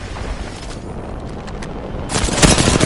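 Video game gunfire bursts out near the end, a loud dense volley of shots over a quieter stretch of muffled game ambience.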